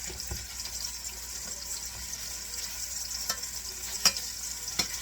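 Meatballs sear in a hot pan to form a crust, giving a steady soft sizzle throughout with occasional faint clicks and scrapes of a big spoon, close up and with no talk.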